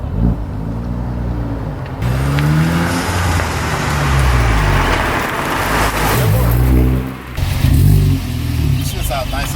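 A Volkswagen MK7.5 GTI fitted with an AWE exhaust revs and accelerates loudly nearby, its deep engine note rising and falling in strong sweeps, with people talking over it.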